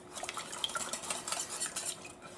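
A spoon or whisk mixes beaten eggs for a peanut ponche de creme, scraping and clinking lightly against the bowl in an uneven, steady rhythm, close and quiet with no talking.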